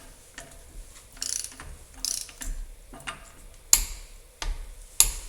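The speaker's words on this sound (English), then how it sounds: "I'm going to go ahead and torque this to 37 foot-pounds" A torque wrench ratchets a nut up to 37 foot-pounds on a Volkswagen Golf Mk4 TDI CV axle job, a run of close mechanical clicks ending in two sharp, louder snaps.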